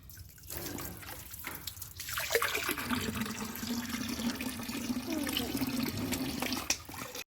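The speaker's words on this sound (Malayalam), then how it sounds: "നമുക്ക് വെള്ളമൊക്കെ തുറന്നു വിടാം വെള്ളം തുറന്നു ഇട്ടിട്ടുണ്ട്" Water released into a small fish pond gushes and splashes steadily, a close continuous pouring stream that starts after a couple of seconds and carries on at an even level, with no talk over it.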